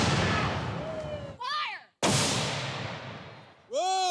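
Two loud cannon blasts ring out at a Civil War reenactment, each a sharp boom followed by a tail of ringing, with a brief quiet gap between them.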